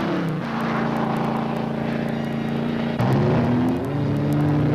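Sports cars race at the Surfers Paradise Circuit over 30 laps, with a loud, sustained multi-engine roar. Harmonic engine tones rise through the gears, and a sharp shift in pitch comes near the three-second mark.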